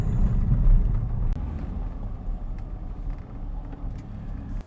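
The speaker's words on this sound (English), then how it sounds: "I'm gonna start the car and put it in gear and I'll power brake it" A Cadillac CTS engine runs in drive while being power braked, a loud low rumble that swells early then settles to a steady idle-like drone, close to the microphone with no talking.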